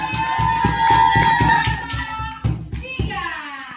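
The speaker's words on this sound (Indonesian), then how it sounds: "Oke, tepuk tangan." A group of children clap their hands together in an evenly paced run of claps, with the voices of kids and an adult audible around them in a classroom.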